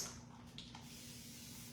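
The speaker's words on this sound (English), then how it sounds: "I'm just spraying it, that's just water in my mister bottle." A few quick, soft hisses from a mister bottle spraying, faint against a quiet room hum.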